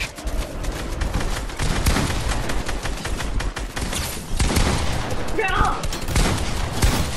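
Assault rifle gunfire in an online shooter video game rattles in dense, rapid volleys throughout, loud and close, with overlapping shots and booms under a busy game mix and some talk.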